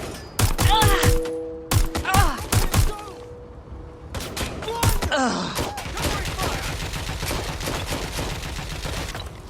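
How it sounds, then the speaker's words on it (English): Rapid bursts of video game gunfire and heavy impacts from Watch Dogs: Legion, with shouted voices mixed in, building into sustained, dense firing with groans underneath. "Gunfire!"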